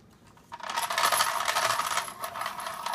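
A yellow Classroom Friendly Supplies manual pencil sharpener grinding a pencil, a bright continuous whirring scrape that begins abruptly, holds steady for about a second and a half, then thins out, close up with no talking.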